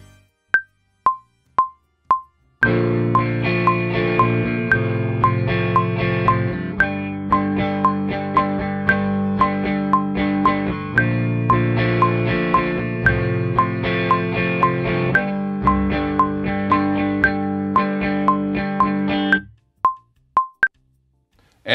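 An electric guitar recorded through a Hiwatt Custom 50 amplifier plays a few sparse single notes, then a long stretch of sustained, driven chords with rhythmic breaks, before returning to isolated plucked notes.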